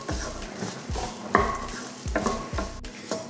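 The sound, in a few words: frying and stirring small onions with coconut in a pan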